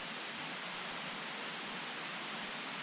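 A waterfall on the Hylaty stream in the Bieszczady mountains gives a steady broadband rush of falling water, even and unbroken throughout, with no voices.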